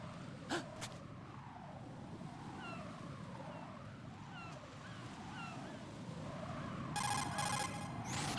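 A cell phone rings in the Metal Gear Solid 2 video game, a bright, repeating electronic ring that starts near the end over a steady wash of ocean-like ambience.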